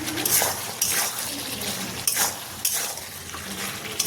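Water poured into a pan of chicken curry in a home kitchen makes a steady, close splashing hiss with a few sharp clinks of the pan or utensil along the way.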